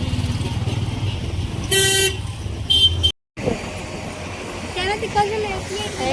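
Highway road traffic rumbles steadily while car horns honk several times, loud and nearby, with people talking over the noise.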